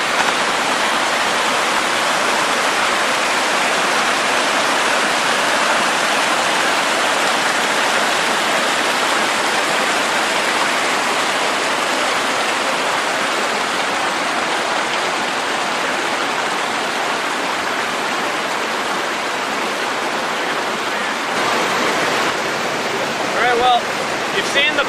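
River water rushes over a waterfall at a micro-hydro dam at Algonquin Eco-Lodge, a loud, steady, broadband roar that fills the whole stretch without pause.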